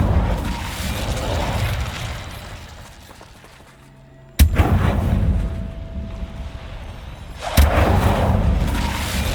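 Incendio fire spell cast in the Hogwarts Legacy video game: a sudden loud whooshing burst at mid-clip with a second burst near the end, each over rumbling game ambience that dips quietly before the first.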